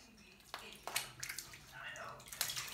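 Bath water splashing and sloshing in a tub at bath time, in irregular soft bursts, with a voice talking over it.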